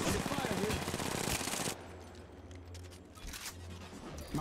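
Rapid automatic gunfire in the mobile shooter game Apex Legends Mobile, a dense burst of shots for the first two seconds, followed by quieter game ambience with a few faint distant shots.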